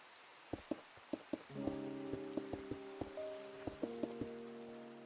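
Soft Minecraft rain patter with scattered drop plinks, joined by gentle layered musical tones. Quiet and ambient, with no voices.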